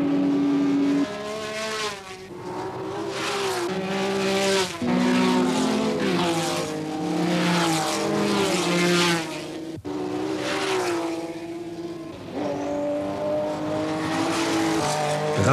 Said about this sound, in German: Mit 36 km/h Spitze läuft der Porsche 935 auf der Geraden.